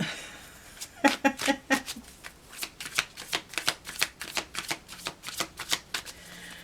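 Tarot cards shuffled by hand, with a rapid riffle of crisp, close flicks followed by steady rhythmic slaps of cards being cut and drawn, loud and alone.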